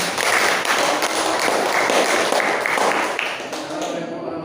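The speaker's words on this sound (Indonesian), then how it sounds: "Tepuk tangan untuk pemirsa." Steady applause from an audience at a biology teachers' fermentation practicum, dense clapping that fills the room continuously before tapering off at the very end.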